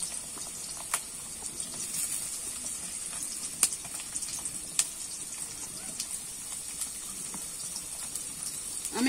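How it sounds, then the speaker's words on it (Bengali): Potatoes fry in oil in a pan while a Bengali bathua greens and moong dal ghonto is being cooked: a steady crackling hiss with scattered sharp pops runs throughout, fairly close and moderately loud, with no talking. "আমি আলুগুলো একটু লাল লাল করে ভেজে নেব।"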